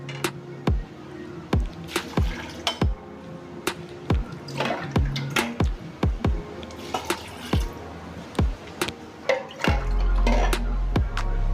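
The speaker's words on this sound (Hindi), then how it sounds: "दो से 3 गिलास पानी डाल देंगे" Water poured and sloshed into a pan holding soaked lentils and meat for shami kabab, heard as a series of sharp splashing knocks and drips at irregular intervals, close by, ending in a steadier pour.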